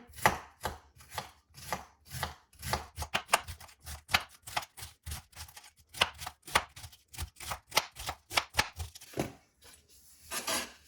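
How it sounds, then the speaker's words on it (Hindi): Cabbage cut on a board with a knife, a rapid run of crisp, even chopping strokes close up with only brief pauses. "अब यहाँ पे इसको भी, बंद गोभी को भी हम काट लेंगे।"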